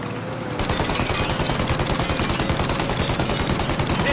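Rapid automatic gunfire rips at the engines of a plane trying to take off in Mafia Definitive Edition, a loud, close, steady stream of shots that starts after a brief pause and keeps hammering without letup.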